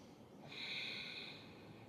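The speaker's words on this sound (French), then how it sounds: "On prend encore une longue respiration." A single long, deep inhale through the nose during a yoga flow, a soft airy hiss that swells and fades, close and quiet.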